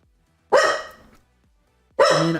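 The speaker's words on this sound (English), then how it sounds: "Dog?" A dog barks twice nearby, each bark loud and sharp with a short trailing tail, separated by about a second and a half of near silence.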